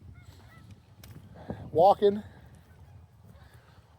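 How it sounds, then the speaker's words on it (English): Geese honking by a frozen, snow-covered lake: a short burst of two or three loud, nasal honks in the middle, with a voice talking quietly before it. "It's quite literally geese."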